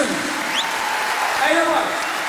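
Audience applause at a band's final farewell concert, a steady broadband wash of clapping from a large crowd that runs the whole short stretch, with faint tonal sounds and voices mixed in underneath.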